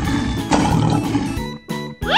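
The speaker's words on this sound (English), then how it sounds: "Lion." A lion roaring: a loud, rough, growling roar up close, followed by a few shorter harsh calls with short silences between them.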